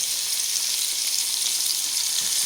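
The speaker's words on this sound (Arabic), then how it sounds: "وهي أنا بقلي الزيت حامي وهلا بخليه وسط." Chicken pieces fry for Kentucky-style fried chicken in hot oil that has been turned down to medium heat, giving a steady, dense sizzle that holds evenly and loud with no talk over it.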